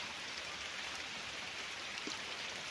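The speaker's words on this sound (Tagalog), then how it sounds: "Tuloy-tuloy lang ang tubig." Spring water piped from a natural spring on a farm lot runs in a steady, unbroken stream, a soft even wash of splashing with no pauses and no voices.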